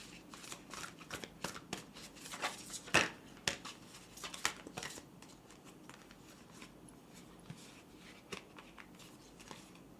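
Moonology oracle cards shuffled in a quiet ASMR-style setting, a soft continuous riffling and patter of card edges with a few sharper slaps, close and gentle.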